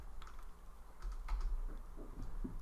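Clicky typing on a computer keyboard, a quick run of close keystrokes in short bursts with no voice over them.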